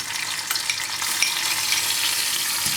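Washed cashew nuts spluttering in a teaspoon of hot ghee, a dense continuous crackle of sizzling with sharp pops scattered throughout, close and steady with no talking.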